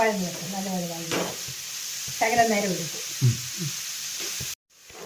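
Onions sautéing in a pan for a Kerala-style egg curry, nearly three-quarters cooked, with a steady soft sizzle running under a woman's speech before cutting off abruptly near the end.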